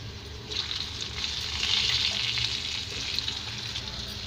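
Cauliflower dropped into hot oil with turmeric and salt, a close, steady hissing sizzle that swells after the first half-second and holds evenly, with no talking.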